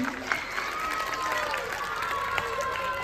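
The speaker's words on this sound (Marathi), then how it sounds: "या आजोबांसाठी मनापासून सगळ्यांनी हातवरती करून जरा जोरदार टाळ्या वाजवत की." At a Shiv Jayanti Paithani game event in Chakan, the crowd claps for an old man, a steady wash of applause with a few sharper hand claps under someone speaking loudly over it.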